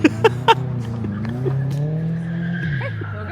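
A Red Bull world rally car skids with a sustained tire squeal and engine drone, preceded by a few sharp bursts; close and loud, lasting for several seconds.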